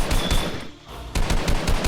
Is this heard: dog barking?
no